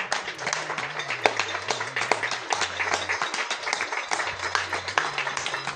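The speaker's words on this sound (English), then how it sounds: "one street in Penellan in Cardiff is encouraging the community to clap for carers" Neighbours on a street in Penylan, Cardiff clap for carers outdoors, scattered hands clapping at mid distance with individual sharp claps standing out, while a low held tone drones underneath.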